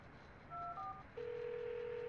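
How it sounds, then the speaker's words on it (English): A telephone in the video game Stone produces short dual-tone beeps followed by a steady, sustained electronic tone, loud and close, with no talking over it. "Come on, Chucky, pick up."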